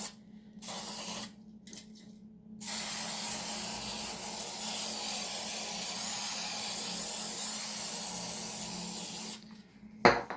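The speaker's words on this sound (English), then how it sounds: "I have to spray again to stick on the bottom side" A spray can of adhesive gives a steady hissing spray for several seconds after a few short bursts, ending with a faint knock.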